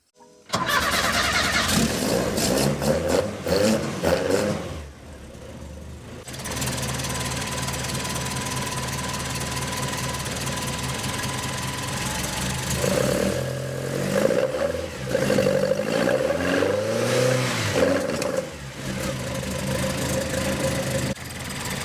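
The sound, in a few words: car engine starting and running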